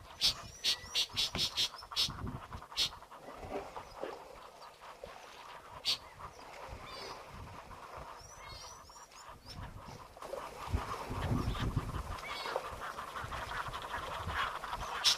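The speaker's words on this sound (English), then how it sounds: "a couple of whistling white-faced ducks for company" White-faced whistling ducks call outdoors at a waterhole, with repeated short whistles and chatter scattered over a low background of other wildlife, moderately distant.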